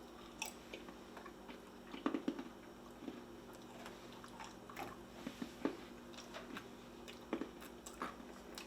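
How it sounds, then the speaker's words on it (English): Close-up chewing of a crunchy, sweet peanut snack, with soft wet crunches and bites repeating irregularly, strongest around the middle and end, with no talking. "And now you have to watch me chew."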